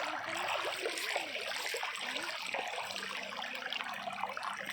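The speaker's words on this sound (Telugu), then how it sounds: "నీళ్ళు గలగలగలమ నీళ్ళు సౌండ్ చూడండి" Shallow stream water gurgling and trickling steadily nearby in a summer swimming spot among mango trees, a continuous bright rush with small bubbling ripples throughout.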